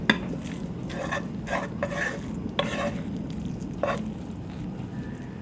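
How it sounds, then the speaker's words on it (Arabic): Rice and eggplant burger mixture being stirred in a pan, with repeated scraping strokes over a steady low sizzle, close and moderately loud. "نبدأ نلم المكونات بتاعتنا كويس مع بعض، نقلبها"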